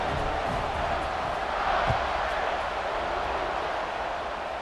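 A packed stadium crowd in College Football 26 roars in a steady, broad wash of cheering, with one brief thud near the middle.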